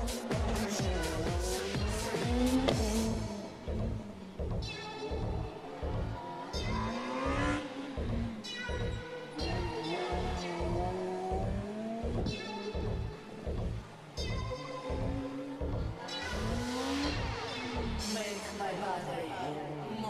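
A Ford Fiesta Super 2000 rally car drives a stage at the Rallye du Chablais near Champéry, its engine revving up and down through repeated gear changes, loud and close, with a commentator talking throughout.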